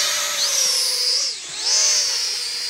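A small motion-controlled drone has its motors running. It gives a loud, close, high-pitched whine that dips briefly in pitch and loudness midway, then rises again, with no speech.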